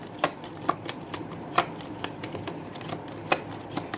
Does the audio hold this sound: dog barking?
no